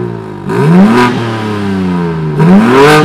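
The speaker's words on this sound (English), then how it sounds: "we're gonna give you some exhaust revs right now. The exhaust is actually closed." A car engine revs loudly and close with its exhaust valve held closed, rising in two swelling pulls that sweep up and settle back, the note muffled and droning rather than open; no voices.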